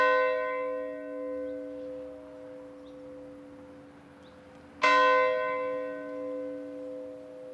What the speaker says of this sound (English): the relatives of the 11 who were lost will each go to the church bell